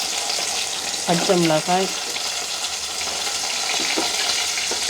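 Fenugreek, fennel seeds and onion frying in hot oil for a village brinjal curry, a loud, constant hiss of oil with a person speaking briefly over it.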